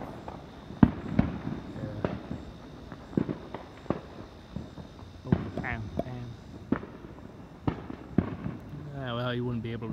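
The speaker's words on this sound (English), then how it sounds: "fireworks." Independence Day 2021 fireworks, including blue ones, pop and boom in scattered sharp bursts among trees, some near and loud and others more distant, with crackling between them, ending with a rising whistling launch; people talk in the background.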